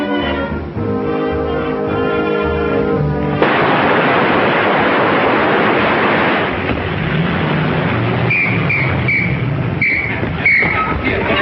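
An old car's engine starts up and roars away, a loud, steady broadband rumble that follows a few seconds of music and fades into a quieter scene with faint voices.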